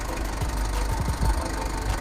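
Mazda Fighter pickup's WL 12-valve engine idles close by, a steady low rumble with a faint rhythmic knock and no one speaking.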